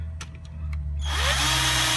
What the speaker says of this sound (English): Going through plastic with a blunt drill bit.